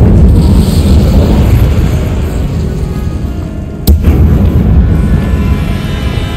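In Hogwarts Legacy, an Incendio fire spell is cast with a sharp bright crack midway, set against a loud, constant low rumbling game soundscape.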